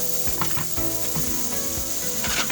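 Carrots, French beans and capsicum sizzle in a hot pan for masala rice, a dense steady hiss with wooden stirring clacks and scrapes, close up and free of speech.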